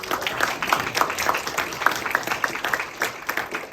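An audience at a high school speech contest gives a round of applause, with distinct, fairly quiet claps in a steady patter heard from some distance in a hall.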